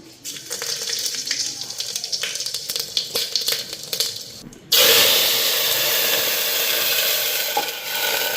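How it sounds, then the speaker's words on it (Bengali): Cumin and dried red chili crackle in oil with scattered spitting pops. Hot oil then bursts into a loud, sustained hiss that carries on steadily. "এখানে জিরা আর শুকনো লঙ্কা নিলাম, ফোড়ন দিয়ে নিই"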